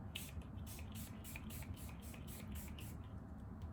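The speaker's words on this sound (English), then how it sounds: "Spray the face again." A rapid series of short, soft misting sprays, about ten quick pumps in a steady rhythm, close up against a low background hum.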